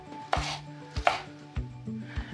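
Knife chopping onions on a new cutting board, a handful of crisp, close taps at an uneven pace with faint kitchen background.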